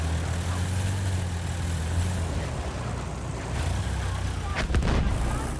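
A tank firing in the Battlefield 1 video game: a steady low engine rumble followed by a single sharp cannon blast with a rolling boom near the end.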